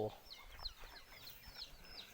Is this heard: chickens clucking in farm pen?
yes